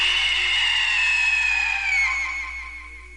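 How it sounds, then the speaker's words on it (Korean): A huge metallic scream effect for a horror story, one loud, sustained shrill screech that slides slowly downward in pitch and fades toward the end, with no voices. "쇳소리가 섞인 거대한 비명소리가 울려 퍼졌습니다."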